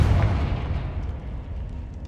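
A Confringo fire spell explodes in Hogwarts Legacy as a loud, low boom that fades into a rumbling tail over about two seconds.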